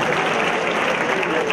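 An audience claps for a singer at a touring national-artist arts event, a brief, dense and even burst of applause heard up close.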